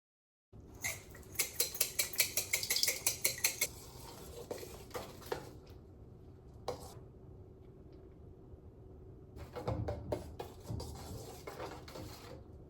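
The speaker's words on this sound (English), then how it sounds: "Now that we've combined all our ingredients and gave it a good stir" A homemade DIY laundry detergent mixture being stirred, with a quick run of sharp utensil clinks and scrapes against the container, then a quieter stretch and a second burst of clattering near the end.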